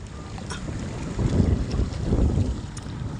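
A boat moves on a river, giving a low rumbling drone that swells midway under gusty wind buffeting, with no voices.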